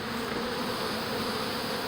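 A swarm of bees being hived into a box hums in a dense, steady buzz, loud and continuous at close range with no pauses.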